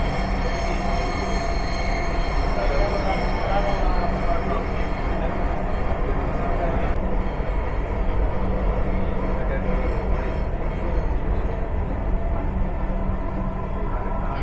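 A Dhaka Metro train runs along the line, a loud continuous rumble of wheels and car noise with a faint squeal, heard from inside the carriage, with a voice speaking faintly underneath.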